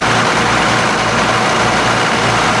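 A farm tractor's diesel engine runs steadily at close range, a loud low rumbling drone with a slight rhythmic throb and no voices.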